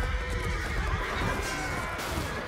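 A horse whinnies loudly and close in the video game Chivalry 2 during a castle siege, a long shrill neigh over a dense battle backdrop with faint hoof clip-clops.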